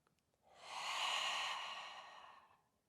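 Forceful fiery yoga breath, one long, loud, breathy exhale that swells and fades over a couple of seconds, close and alone.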